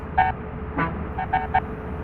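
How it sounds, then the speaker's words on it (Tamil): Several short bus horn toots over a low engine rumble in a bus simulator video game, one longer blast followed by a few quick honks in succession. "இந்த பஸ்ஸோட ஹார்ன் எனக்கு ரொம்ப பிடிச்சிருக்கு"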